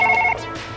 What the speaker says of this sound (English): Okay, that's your phone.